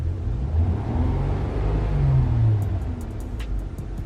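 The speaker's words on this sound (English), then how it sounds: "Turn on the channel switch that you're connected to and rev up the engine." A car engine rumbles and revs steadily at close range, a low droning roar that swells and eases slightly, with no voices; the sound includes synthetic engine noise played through the car's system.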